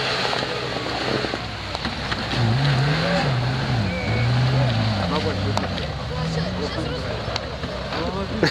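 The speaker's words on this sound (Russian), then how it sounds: "Тест-драйв автомобиля Нива" Lada Niva 21213 off-road car prepared by Rossniva, engine droning steadily with low rising and falling revs while driving, with rough road and rattle noises throughout.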